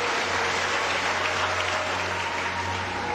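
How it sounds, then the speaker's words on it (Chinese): An audience claps to welcome a performer onto the stage at a Tang Dynasty costume show, dense even applause sustained throughout at close range. "接下来我们用掌声欢迎江昌宇出场。"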